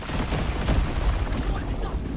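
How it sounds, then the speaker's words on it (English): An explosion in the video game Deep Rock Galactic: Survivor, a dense rumbling blast sustained over about two seconds with heavy low booms, loud and continuous. "That's a nice explosion."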